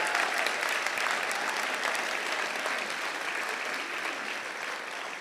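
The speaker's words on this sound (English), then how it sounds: "I think that alone deserves a big round of applause" Sustained audience applause at a school convocation ceremony fills the hall steadily for about five seconds, dense and even, easing only slightly toward the end, with no speech over it.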